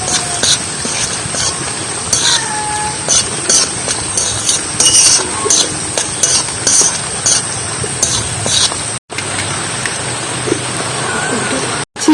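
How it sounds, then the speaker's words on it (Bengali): Fried spices being stirred into garlic pickle in a pan, with repeated scraping and clinking of a spoon against metal over a constant hiss of cooking. "আর মশলাটা ভালো করে আচারের মধ্যে মিক্স করে নেব।"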